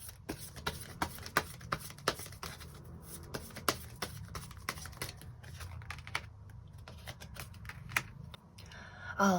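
Tarot cards are shuffled and drawn close by, with rapid, crisp flicking and tapping that repeats steadily for several seconds before ending in a louder, denser burst.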